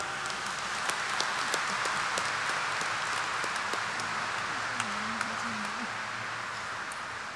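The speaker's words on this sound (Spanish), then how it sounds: "Pido un fuerte aplauso para él." A church congregation applauds for Monsignor Luis Morao at a novena celebration, a steady, dense wash of clapping filling the space throughout, with a voice speaking faintly underneath.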